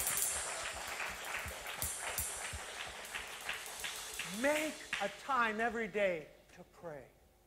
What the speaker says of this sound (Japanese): 一度拍手しましょう。